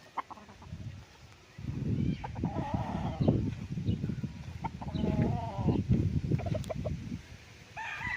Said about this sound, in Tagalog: nag-aalaga ng manok yung may-ari nito